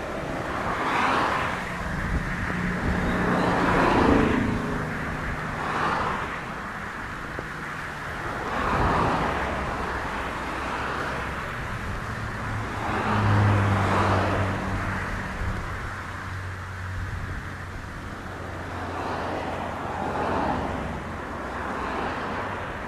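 American Airlines jet landing on runway 7 at Montego Bay as a steady, broad engine roar and rumble heard from a distance, swelling and easing gently with wind buffeting the microphone.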